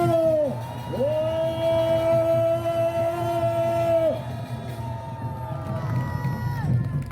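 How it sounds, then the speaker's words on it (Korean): An outdoor crowd rallying in front of a courthouse in Seocho-dong, Seoul, cheers and shouts continuously, with long sustained horn-like tones sounding over the noise; distinct clapping is hard to pick out. "윤석열 검찰총장과 대한민국 검사들에 대해서 여러분 박수 한번 보내주세요"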